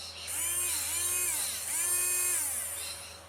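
A 20,000 RPM motor fitted in a Polaroid SX-70 camera whirs in two rising, sliding high-pitched runs, a loud close-up electric whine with no talking.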